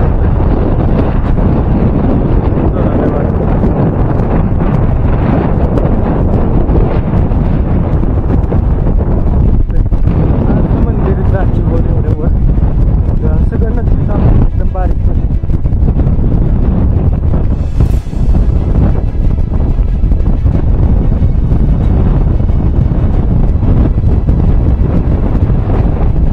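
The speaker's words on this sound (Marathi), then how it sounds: "वारं इथं खूप जोरात आहे" Strong wind buffets the microphone at the hilltop Chitradurga fort, a loud continuous roar with gusty rumbling throughout, no voices.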